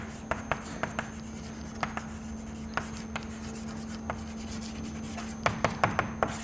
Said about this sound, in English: So let me write that down for you.